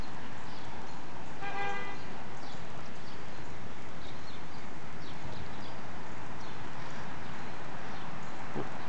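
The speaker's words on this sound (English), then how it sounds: "I'm right next to Pleasant Street. You can see the traffic." Busy street traffic on Pleasant Street passing an old 1800s burying ground, a loud continuous wash of vehicle rumble and tire noise with a brief horn toot, heard from close by.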